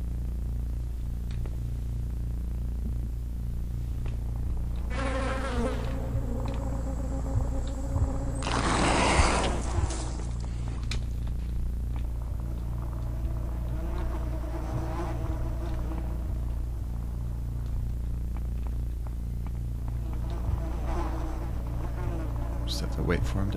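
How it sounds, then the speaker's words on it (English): Wasps drone in the System Shock 2 video game, a steady insect buzz under a low mechanical hum, swelling into a louder close buzzing burst midway before settling back. "if the wasps actually don't bite you right away, they don't sort of get your scent"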